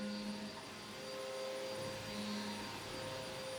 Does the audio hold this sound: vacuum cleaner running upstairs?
yes